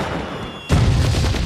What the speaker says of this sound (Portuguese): Fogos de artifício estouraram